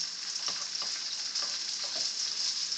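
Hot dog slices sizzle steadily in a hot pan, a soft continuous frying hiss with faint clicks and taps as pieces are flipped one after another.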